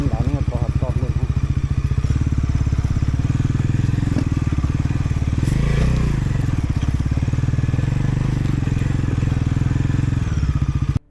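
A Bajaj NS 400Z motorcycle ridden in second and third gear, its engine a close, steady pulsing drone with throttle shifts and a brief rise in pitch midway, plus faint wind and road clatter before it cuts off abruptly.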